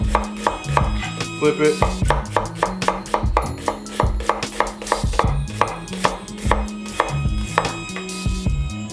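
Onions being chopped with a knife on a cutting board for an Italian sub, fast rhythmic close chops in bursts with brief pauses, and one short spoken remark.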